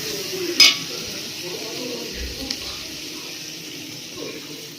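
A chicken biryani mixture of country chicken is stirred in a pot, giving a quiet wet scraping and sizzling with one sharp clink of the spoon against the pot early on, all faint and without talking.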